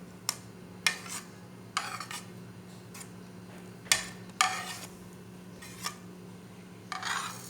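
Spinach, green chili and onion being mixed by hand into pakora batter in a bowl, heard as a string of short separate clinks and scrapes spread across several seconds, quiet and close, with no talk.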